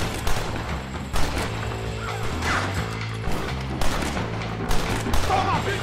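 Rapid bursts of gunfire in a Red Dead Redemption shootout, loud repeated shots and volleys over a dense, busy game soundscape with shouting voices mixed in.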